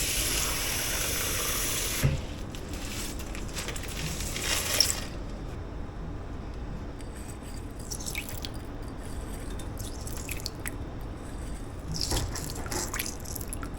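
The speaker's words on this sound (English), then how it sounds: "first I'm gonna get a bowl and fill it with water so I can rinse all the sand out of my shells." A bowl being filled with water to rinse sand from collected seashells: an opening hiss of running water, then quieter splashing, sloshing and drips with a few short bursts of pouring.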